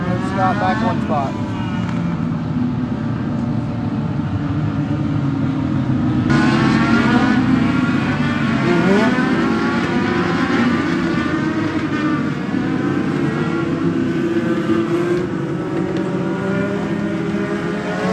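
Continuous roar of race car engines rising and falling as they accelerate at Charlotte Motor Speedway as the pace car pulls off for a green flag, steady and loud throughout, with a voice talking over it.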